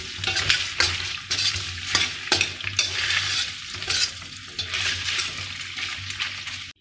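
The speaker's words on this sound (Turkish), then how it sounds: "yağımız tereyağımız güzelce kızardı" Steady crackling sizzle of butter and oil in a hot frying pan, continuous and close, with occasional scraping stirs.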